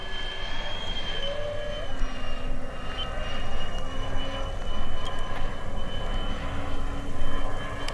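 Giant radio-controlled Airbus A380 model in Emirates livery flies on its maiden flight, its electric jet motors producing a loud, steady whine and roar with high sustained tones and no talk over it.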